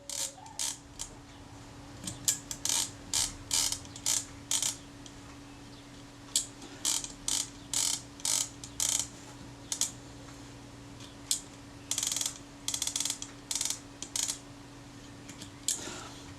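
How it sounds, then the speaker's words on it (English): Mechanism clicks from a Kodak Retina I type 119 camera's film advance and rewind during servicing: repeated sharp clicks in irregular bursts, close and fairly loud over a faint steady hum. "Pop the advance knob back in place. Check the action, that appears to be good."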